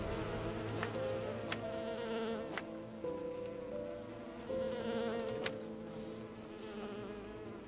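A steady, close insect drone of bees buzzing in the Enderal game world, wavering continuously with several faint clicks and taps over it and no talking.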